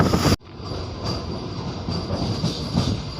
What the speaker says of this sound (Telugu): స్టేషన్ లోపలికి అయితే వెళ్తుంది మన ట్రైను.